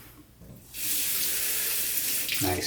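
Bathroom tap water running into a sink to add to a shaving lather, a sudden steady gush starting after a brief quiet moment and continuing to the end.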